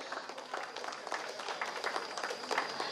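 A crowd at a university faculty anniversary ceremony claps together, a fairly quiet but dense, continuous patter of hands filling the hall.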